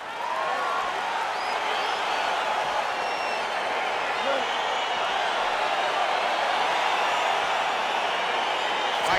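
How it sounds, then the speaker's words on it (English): Crowd cheering during a simulated UFC 4 video game bout between Ciryl Gane and Fabricio Werdum: a dense, continuous roar of many voices and scattered applause, steady and fairly loud throughout. "crowd getting excited as this fight gets underway"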